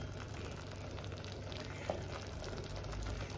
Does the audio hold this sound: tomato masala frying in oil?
yes